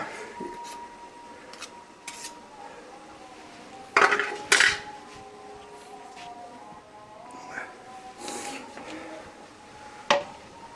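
Metal spoon scraping and clinking against a cooking pot while Gujar halwa is stirred, with intermittent scrapes and a few louder clanks close by, under a faint background hum.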